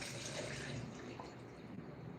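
Stock pours in a continuous broad splashing stream, a steady liquid rush close by with no talking.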